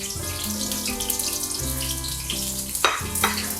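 Sliced onions dropped into a pan for a Pakistani mutton paya gravy, with a watery crackling sizzle that stays steady for a few seconds under background music and rises in a couple of short bursts near the end.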